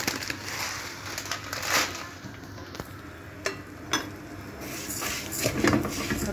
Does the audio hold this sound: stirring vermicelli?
yes